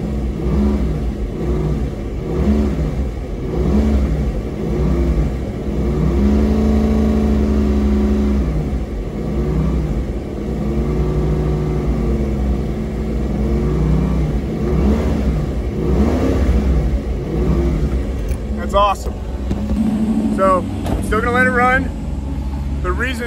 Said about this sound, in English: I've revved on this thing a few times off camera